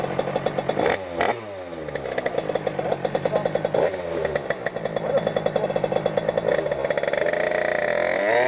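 A tuned high-end moped engine, being adjusted at the carburetor, revs hard nearby in quick rising and falling bursts with a buzzing, rattling edge.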